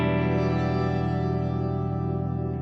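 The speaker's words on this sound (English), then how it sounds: "Let's go for something like the music hall, which has a slightly longer delay time." A sustained guitar chord through a music hall reverb with a long tail on a Fractal FM3 effects unit, ringing evenly and slowly fading with a warm, shimmering wash.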